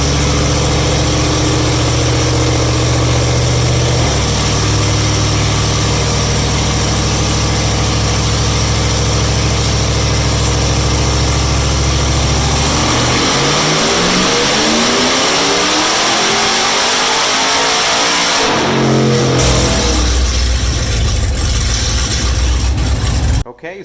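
A 427ci engine runs on a dynamometer with a new throttle body fitted, first idling and droning steadily, then revving in a loud rising sweep and dropping back before cutting off.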